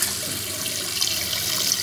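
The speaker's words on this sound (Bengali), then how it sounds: "যে ময়লা পানিটা ওইখান দিয়ে আইসা এখানে পড়তেছে" Dirty water from a fish farm's RAS recirculating system pours down in a continuous, even rush of falling water.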